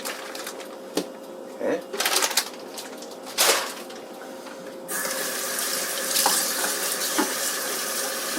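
Water from a kitchen sink tap runs over yakisoba noodles being rinsed for a cast iron cooking dish. A steady splashing stream starts in short bursts and then flows continuously and fairly loud.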